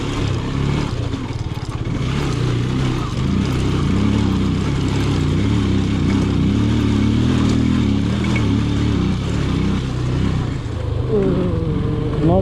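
A motorbike climbing the rough mountain road to Sandakphu at around 3600 m altitude, its engine a loud, steady drone mixed with wind rumble, rising slightly in pitch near the end.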